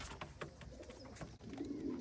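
A racing pigeon gives soft, low cooing calls, a few throaty pulses close by with faint background rustle and no speech.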